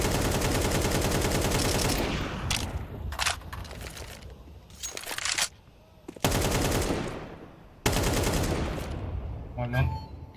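Counter-Strike 2 gunfire: long, loud bursts of rapid automatic fire come close up, broken by short gaps and a few single shots.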